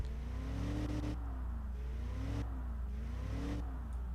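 A 1950s luxury car's simulated engine in the Automation car-building game, revving up to around 5,000 RPM and falling back in repeated swells, a steady droning engine tone throughout with no talking.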